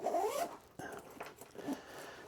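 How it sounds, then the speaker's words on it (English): A backpack zipper being pulled in several rasping strokes with brief pauses, close and fairly quiet, on a stiff bag whose zippers keep getting stuck. "The zippers are constantly getting stuck."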